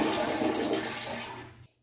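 A toilet being flushed to empty its tank, a loud rushing gush of water close by that runs steadily and then cuts off abruptly.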